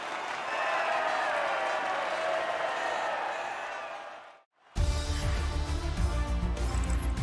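Crowd applause and cheering at the podium after a race in the F1 23 racing game, a steady dense roar that cuts out briefly and resumes louder and brighter.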